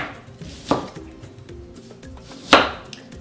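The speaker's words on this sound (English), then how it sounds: "I'm gonna get back to cutting my onions" Knife chopping onions in a home kitchen: two sharp, separated cuts against a board, with faint clinks and rustles between them and no talking.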